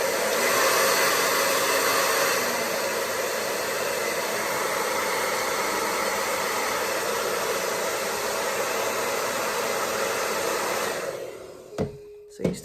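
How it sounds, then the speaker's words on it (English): A blow dryer runs steadily on natural type 4 hair during styling, a loud continuous whooshing roar for about eleven seconds before it shuts off, followed by a couple of brief handling knocks. "just gonna pull your top section and put the blow dryer down here"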